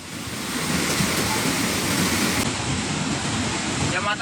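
Heavy rain pours during a flash flood in Sukabumi, a dense, steady roar of broadband noise like rushing water that holds loud and unbroken throughout, with no clear voices above it.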